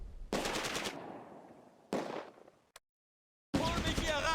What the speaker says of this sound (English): The tanks open fire on the reserve squad.